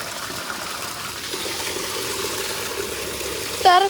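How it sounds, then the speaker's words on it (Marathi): A steady gush of water pours from a tank into a bucket, a continuous close rush with a brief louder splash near the end. "इथे भरणार मी पाणी"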